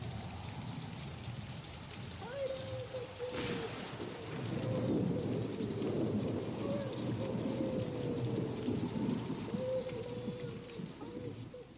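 Steady rain on surfaces with a low thunder rumble through a stormy garden scene, a broad wash of noise swelling in the middle, with faint tonal music or voice lines drifting over it.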